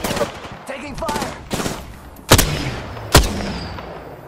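Gunfire in the battle royale game Apex Legends: two sharp, loud shots stand out over a busy bed of game sound and scattered softer bangs, with a voice talking at the start.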